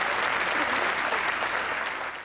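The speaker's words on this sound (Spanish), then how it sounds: "Creo que se merecen un aplauso." A concert crowd at a song-and-dance troupe's performance in Chile gives a brief burst of steady, even applause that sounds somewhat distant and quiet.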